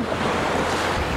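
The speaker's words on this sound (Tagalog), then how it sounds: "Ang laki ng alon, no?" Large ocean waves crash and surge against a rocky shore at a fishing spot, a loud, continuous roar of surf with wind noise and no voices.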